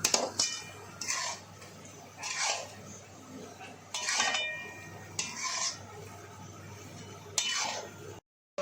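A spoon scrapes and clinks against a pot as wheat flour sheera is mixed with sliced almonds, charoli and pistachios, giving a series of close, separate strokes with quiet pauses between them.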